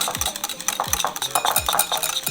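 A whisk beats cayenne pepper into a sauce seasoned with salt and pepper, its wire tapping and scraping against the bowl in quick, regular strokes, close and clear.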